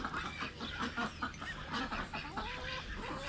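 Several birds honk and quack in overlapping bursts, fairly close, with a busy, chattering rhythm throughout.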